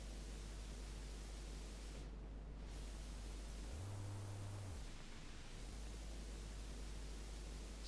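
Tape noise texture from the Lost Piano plugin: a steady, soft, broadband hiss with a low hum underneath, constant throughout with no other sounds.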